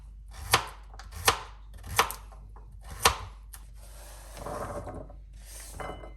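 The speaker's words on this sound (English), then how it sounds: "let's cut carrot" A knife chops a carrot on a wooden board in four distinct, evenly spaced thuds, followed by softer scraping and rubbing; no voices.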